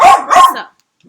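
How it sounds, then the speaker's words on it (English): A dog barks twice in quick succession, close and loud, the sharp barks filling most of the moment before a brief quiet with a faint trailing sound, no talk over it. "let me move away from the barking dog."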